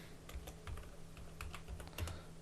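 Text typed on a computer keyboard while a social media poster is made in CorelDRAW: soft, irregular key clicks in small bursts, fairly faint over a low steady hum, with no talking.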